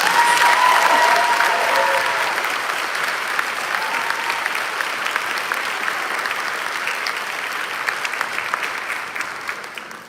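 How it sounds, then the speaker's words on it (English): An audience at a fifth grade promotion ceremony gives class 5C a round of applause, dense clapping that starts strong and gradually thins out and fades toward the end. "Let's give 5C another round of applause."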